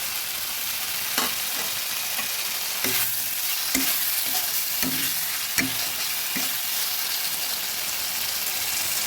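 Chopped tomato sizzles and fries in a pan for katla fish curry, with a steady hiss broken by several clear scrapes and knocks of a spoon as it is stirred, close and fairly loud, with no talking.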